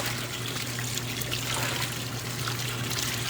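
Cold tap water running to rinse laundry, a steady close trickle and splash with no pauses.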